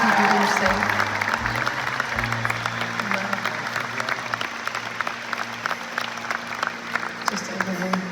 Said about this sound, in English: please can we give a round of applause for the ground staff